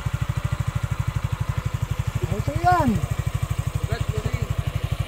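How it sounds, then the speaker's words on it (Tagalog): A motorcycle engine idles nearby with a steady, rapid low chugging pulse that runs throughout, while someone speaks briefly over it. "Ay, motor mo."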